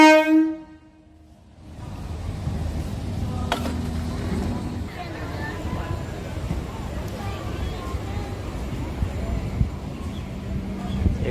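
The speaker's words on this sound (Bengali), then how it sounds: "কুলিক এক্সপ্রেস ট্রেন বর্ধমান ছেড়ে বেরিয়ে গেল আর শিয়ালদা বর্ধমান লোকাল ঢুকছে।" A Sealdah–Bardhaman local train pulls into Bardhaman station, a steady rumble of rolling stock and track noise lasting several seconds after a brief horn-like tone at the start, with station bustle around.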